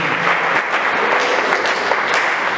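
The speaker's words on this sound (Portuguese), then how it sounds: "Uma salva de palmas para as mulheres" A church congregation at a worship service at Atos Comunidade Cristã de Araçatuba claps loudly and continuously, a thick wash of many hands filling the room without a break.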